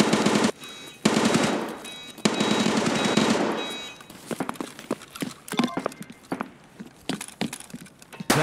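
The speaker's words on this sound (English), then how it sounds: "It's this way with all the gunshots, isn't it?" Gunfire in the video game Escape from Tarkov on the Interchange map, heavy sustained bursts in the first four seconds, then scattered sharp shots and clicks that thin out.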